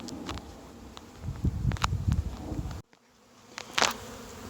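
A swarm of Carniolan honey bees buzzes close and steady while frames are set into a hive, with scattered knocks and rustles, a brief dropout, then buzzing again.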